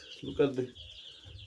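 Young Kuroiler chicks give faint, high chirps, mostly masked by a person talking close by.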